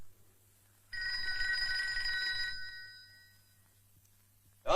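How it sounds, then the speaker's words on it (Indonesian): A telephone rings with a single trilling electronic bell burst lasting under two seconds, then fades into quiet, with a sharp click at the very end. "Telepon bakal lo nih, Don."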